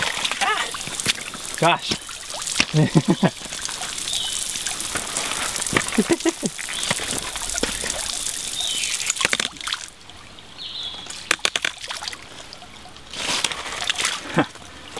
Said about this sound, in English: Let's open this and drain all the air out.